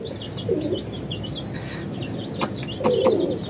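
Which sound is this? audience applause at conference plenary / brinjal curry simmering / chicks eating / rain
chicks eating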